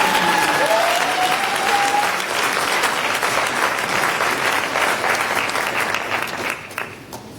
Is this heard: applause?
yes